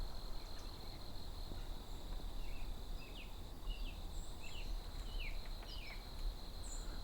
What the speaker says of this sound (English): Well, there's a robin singing a little bit.